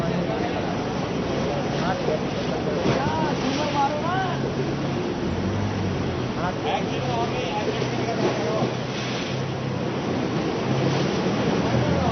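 Swollen Ganga river waves and rushing floodwater at Parmarth Niketan ashram in Rishikesh, a steady loud wash of surf and wind noise with a voice talking over it throughout.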